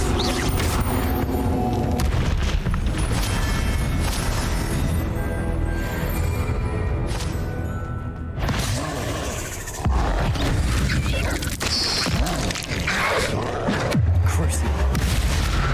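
Confringo blasting spell explosions in Hogwarts Legacy, a dense run of loud booms and crashes over game music, with a brief lull midway before more blasts.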